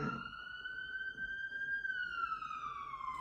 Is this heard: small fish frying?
no